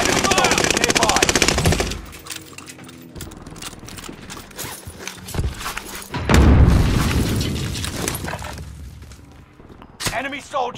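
Heavy gunfire and booming blasts from an STG-44 rifle in Call of Duty: Modern Warfare, dense rapid bursts at the start, then a loud rumbling barrage later, with a voice calling out between the shots.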